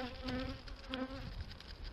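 Honey bees buzzing at an opened beehive, a dense, continuous hum of many wings, faint but steady, with no voices.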